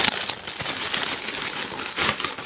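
Stylophone S-1 pocket synthesizer packaging being opened with poor scissors: crinkly crackling of plastic and cardboard handling, close and continuous with a few sharper crunches, no talking.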